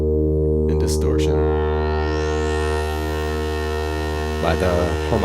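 A Behringer Grind synthesizer drones loud and low with harmonic distortion adding a gritty, buzzing edge, marked by a couple of short noisy bursts at the start and end.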